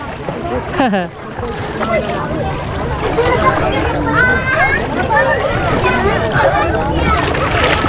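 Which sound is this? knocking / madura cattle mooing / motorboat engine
motorboat engine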